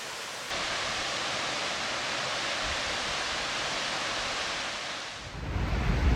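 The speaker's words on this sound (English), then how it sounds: "Wow, that is a gorgeous waterfall." A waterfall in Bechler Canyon, Yellowstone, roaring as a broad, steady rush of water heard close up, with a brief handling thump near the end.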